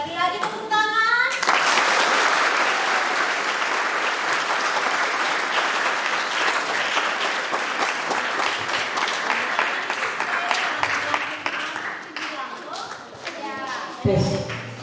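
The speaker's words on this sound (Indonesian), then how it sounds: "Sekali lagi tepuk tangan." Audience applause at a church Easter camp gathering for children in Wondama, a dense, steady crowd clapping that runs for about ten seconds, with voices speaking just before and after it.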